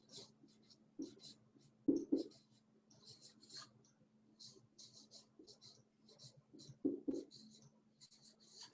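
Handwriting on paper in a quiet room: soft, close scratchy strokes come in quick intermittent clusters, with faint background murmurs and occasional light taps.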